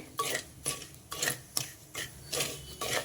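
Millets dry-roasting in a pan, stirred with a metal spoon in a steady rhythm of about seven scraping, clinking strokes, close and fairly quiet, with no one talking.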